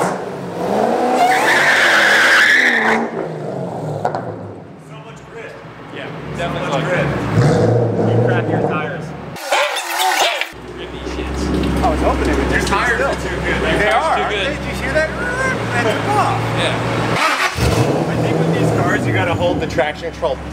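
Shelby GT500 burnout on a dock with traction control disabled, its engine roaring loudly and tires squealing through most of the clip, with people talking and shouting over the noise.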